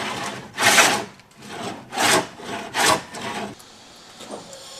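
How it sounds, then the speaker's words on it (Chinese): A carpenter sands wooden boards while fitting out a traditional wooden house, giving close, rhythmic rasping strokes: three loud sweeps with softer rubbing between them, then quieter scraping at the end. No one speaks. "看师傅打磨这些板子"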